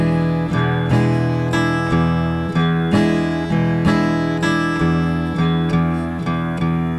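Acoustic guitar plays a blues shuffle at a slowed-down tempo, uneven long-short strums and bass notes rolling in a loping pattern, close and steady without talk.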